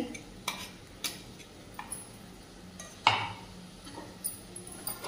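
Finely chopped dill greens are stirred into sautéed ingredients in a pan. A quiet, low sizzle is broken by scattered scrapes and clinks of a spoon against the pan.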